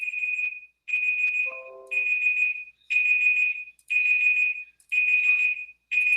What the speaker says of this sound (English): Let me stop this timer real quick.